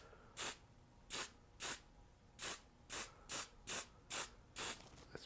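Varathane clearcoat is sprayed onto a pinball playfield in nine short, evenly spaced hissing bursts, close by, with quiet gaps between them and no talking.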